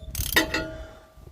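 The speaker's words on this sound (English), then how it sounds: "Stanley ratchet barcode socket. So undo that a few turns" Stanley ratchet with a socket working a bolt loose on a diff guard of a 2021 Isuzu MU-X, a quick pair of sharp close clicks followed by a fading metallic ring.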